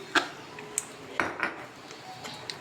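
Pasta seasoned with pepper being stirred in a pan: a few sharp metallic clinks and scrapes of a utensil against the pan at irregular intervals, close and clear, with no talking.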